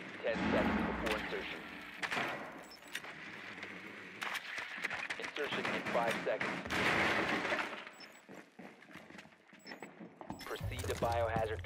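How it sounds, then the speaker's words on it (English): Rifle gunfire in a Rainbow Six Siege match, sharp shots in bursts and single cracks spread across the scene, mixed with mechanical clatter and game sounds while a voice talks over it. "Rifle shoot."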